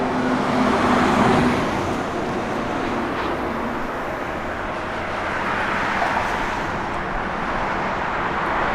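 1969 Chevrolet Chevelle SS 454 V8 running, a loud, steady engine rumble with broad roaring noise, slightly louder at the start then holding level, with no talk.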